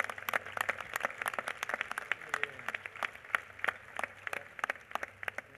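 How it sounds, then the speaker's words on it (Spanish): Scattered, fairly faint applause from a small gathering welcoming Peruvian Olympic athletes back from Paris 2024, with distinct individual claps in an uneven rhythm. "Un aplauso también para ellos."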